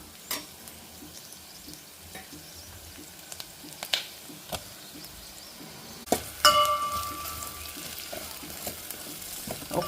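Onions sizzle quietly in a pan until bottle gourd pieces drop in. The frying then swells into a louder, busier crackle with a few clinks of utensils.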